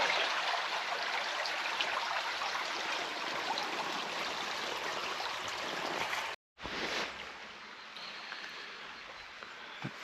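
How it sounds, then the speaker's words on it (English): The River Tamar flows down toward the English Channel on the Devon–Cornwall border: a steady broadband rush of water, broken once by a brief silent cut before the rushing resumes. "And there goes the Tamar flowing down towards the English Channel."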